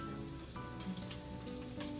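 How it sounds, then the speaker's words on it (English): Pork belly sizzles steadily in a hot pan, a dense crackling hiss with no voices, fairly quiet and close. "How you can see it still sizzling?"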